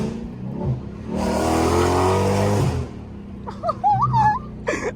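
Dodge Hellcat engine whining and revving, a loud sustained rev building for a couple of seconds then falling away, close by, with short voices and bursts of noise afterward.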